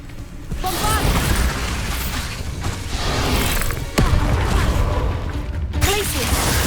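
Bombarda explosion spell cast in the video game Hogwarts Legacy, a dense rumbling blast with a sharp crack near the middle, heard among layered game effects and music that continue throughout.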